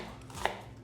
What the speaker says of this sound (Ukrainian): нарізаємо мілко кубіком